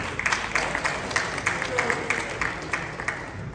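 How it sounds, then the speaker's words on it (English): An audience claps for the head coach of Morehouse College at an HBCU football classic event, a sustained round of applause with distinct individual claps popping out at a brisk, uneven rhythm. "Give him a round of applause"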